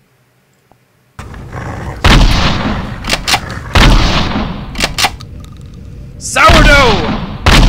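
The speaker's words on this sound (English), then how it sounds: "That's pretty fast shooting. With a shotgun." A shotgun in a video game fires in rapid succession, a run of loud, booming blasts close up with short gaps between them, and a voice shouts once amid the shots.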